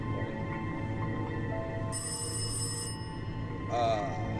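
In the horror video game Rise of Insanity, a telephone rings with a bright electronic trill in two short bursts over a low ambient drone. It is moderately quiet and heard without speech.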